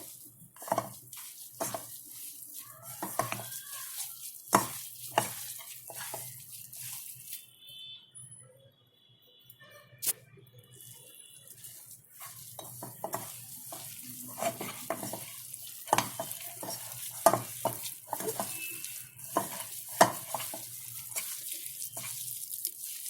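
Radish ball mixture being stirred and mixed with corn flour by hand, giving soft, irregular squelching and scraping strokes at close range, with a brief quieter pause midway and no talking.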